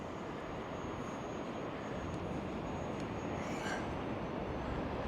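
E-Flite Viper 30mm RC electric ducted-fan jet flying near sand dunes before landing, a steady continuous whooshing whine at moderate distance, loud and unbroken throughout.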